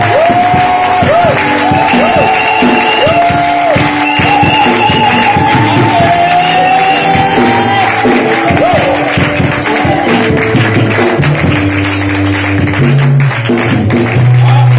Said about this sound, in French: Je voudrais que nous acclamons très fort pour rendre grâce à Dieu.